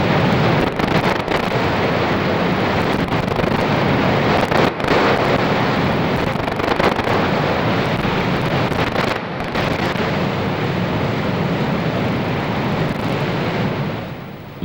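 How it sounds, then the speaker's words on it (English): A boat runs the Cranberry Rapid, a deadly river rapid, amid a loud, continuous roar of rushing white water and buffeting wind that fills the whole stretch with no voices. "Stanley Cribbett steering with a paddle, the expedition heads into the Cranberry Rapid, a rapid that has already drowned a long list of the unwary and the over-adventurous"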